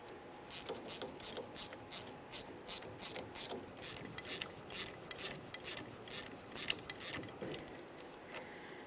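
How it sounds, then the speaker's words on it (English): A 13mm ratcheting wrench loosens the left parking brake cable on a 1994-2001 Dodge Ram 1500, making rapid, steady pawl clicks in quick bursts, close and moderately loud with no talking. "We'll continue on with a 13mm ratcheting wrench, and we can continue bringing this all the way outward."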